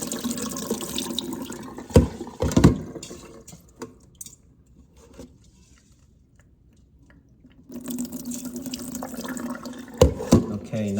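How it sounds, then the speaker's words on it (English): Water running into an Instant Pot to cook rice, a splashing pour in two bursts with a quiet pause between, plus occasional clunks of handling nearby. "fill up the amount of water in this pot to cook the rice"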